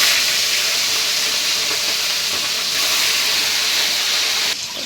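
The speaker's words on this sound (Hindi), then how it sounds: "कुछ बचा है तो उसे भी हम फ्राई कर रहे हैं" Katla fish pieces fry in a kadhai with a steady, loud hiss and sizzle of hot oil that runs almost unbroken, then drops away sharply near the end.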